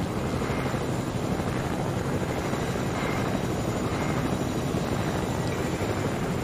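A helicopter in the video game Fortnite drones steadily throughout with a constant, loud rotor and engine roar, with no talking.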